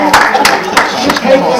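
Audience clapping at a London lecture, steady claps running through the clip under an almost continuous voice calling out.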